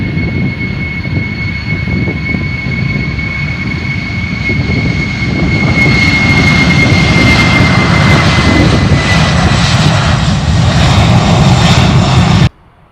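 A Virgin 747-400 jet airliner roars steadily on takeoff, loud and sustained, its engine whine rising slightly midway before the sound cuts off abruptly.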